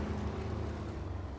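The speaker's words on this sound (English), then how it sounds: "You see how like you can hear the engine kind of like in the puffs of smoke" An engine runs with the throttle feathered on an off-road climb, a low chugging rumble with rhythmic puffs, steady and close under wind noise.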